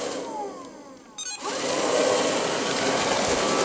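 An Ilife V3s Pro robotic vacuum cleaner runs on a landing, a steady close whirring drone with a brief dip and clunk as it reaches the edge and turns, then continuous motor noise.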